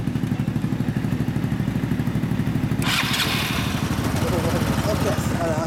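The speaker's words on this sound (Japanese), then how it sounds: "エンジンを聞かせてもらえますか" A 2011 Yamaha YZF-R125 with a Leo Vince exhaust runs close by with a rapid, even single-cylinder idle thump, then revs up sharply partway through with a rougher, louder exhaust note while people talk nearby.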